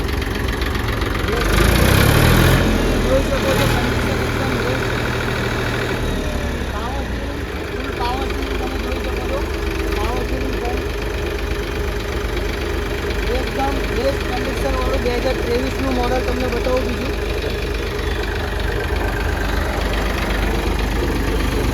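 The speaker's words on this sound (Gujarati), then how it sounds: "તમે જોઈ શકો છો ટ્રેક્ટર ટ્રેક્ટર નવું બે હજાર ત્રેવીસનું મોડલ હજુ આવ્યું છે" A new 2023-model Eicher 480 tractor with a fresh engine and about 160 hours of use idles steadily and close by, a low continuous rumble running the whole time while someone talks over it.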